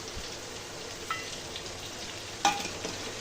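Chicken coated in biryani masala with pepper and cumin powder is stirred in a pan, giving a low steady sizzle with a couple of brief scraping clatters, close and fairly quiet, no talk.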